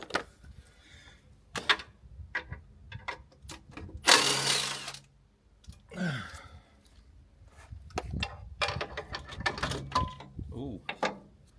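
A ratchet undoing the clutch nuts on a truck: short bursts of metallic clicking and rattling with pauses between them, close by, mixed with clanks and handling noises and no talk.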